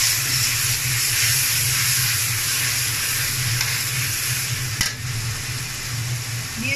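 Fish curry of katla fish with winter vegetables and salt being stirred in a frying pan, a steady loud sizzle and hiss with soft scraping throughout and one sharp clack near the end.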